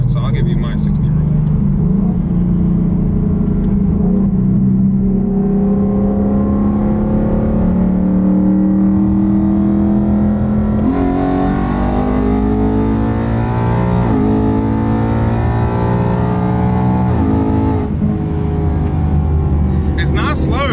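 A supercharged Hellcat making over 800 wheel horsepower on pump gas roars and revs hard under full acceleration, its pitch climbing through gear changes, loud and close throughout.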